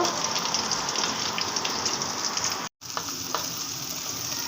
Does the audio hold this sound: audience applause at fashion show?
no